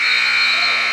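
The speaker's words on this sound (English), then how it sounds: "That's how the second period buzzer will end." A period-end buzzer sounds at a Big Ten college wrestling dual meet between Bucknell and Maryland, a single loud, steady electronic tone held for the whole second with no talk over it.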